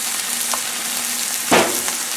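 Shrimp frying in oil on a Blackstone griddle give a steady, close sizzle, with a brief louder crackle about midway.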